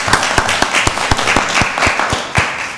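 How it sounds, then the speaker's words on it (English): Applause at a Rockdale County Board of Commissioners meeting: a small group claps in sharp, distinct, fairly rhythmic bursts, close and loud, for a few seconds with no talking. "give him a round of applause"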